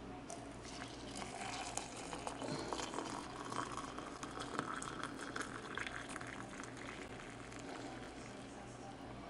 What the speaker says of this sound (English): So I'm gonna pour my hot water in here.